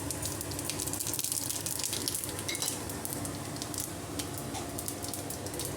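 Mustard seeds, cumin and fennel frying in hot oil for boiled egg curry, a busy close sizzle with sharp popping and crackling spatters throughout, and no voices.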